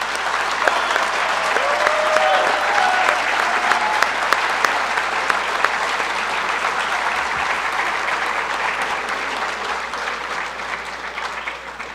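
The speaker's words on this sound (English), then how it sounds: "help me give them a huge round of applause for Fremont Ross's own staff veterans" Sustained loud applause from a crowd at a high school Veterans Day assembly honoring staff veterans, a dense continuous wash of clapping that holds for the full twelve seconds with a faint voice early on.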